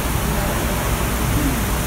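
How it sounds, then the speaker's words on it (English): Steady broadband hiss of rain falling in Mexico, constant and even throughout with no pauses, fairly loud and close. "I don't know if you can hear that, but it's raining."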